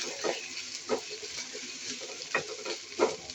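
Mustard spice paste with garlic, ginger and onion sizzles in a pan under a steady hiss, with several spaced scrapes of a spoon stirring.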